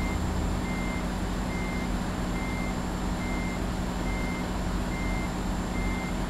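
A truck's reversing alarm beeps in Euro Truck Simulator 2, a regular series of evenly spaced high tones, about one every half second, over a loud steady engine rumble, with no talking.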